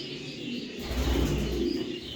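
Pigeons coo softly nearby inside a pigeon coop, low throaty calls mixed with a few chirps and a brief flutter of wings in an enclosed space.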